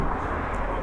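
A Yamaha Aerox scooter with a loud, street-tuned engine revs at half throttle in a short blip, a steady close roar filling the whole moment with no talk.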